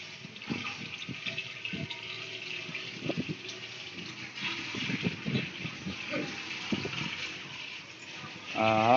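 Fresh water is poured over a small child, Sonu, during a bath given by the mother, making irregular splashing gushes close by, with a faint steady background underneath.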